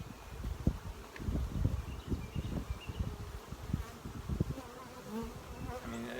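Honey bees buzz around an open hive frame packed with honey and pollen, a dense, close swarm drone with individual bees whizzing past the microphone and light wind.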